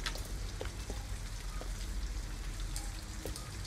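Steady rain in the video game Detroit: Become Human falls on a surface, with scattered droplet taps over a constant wash; no voices, moderately quiet throughout.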